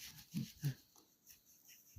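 A dog having a bad dream breathes in soft, wheezy snorts and puffs, two stronger huffs early on then fainter breaths, quiet and close with no talk.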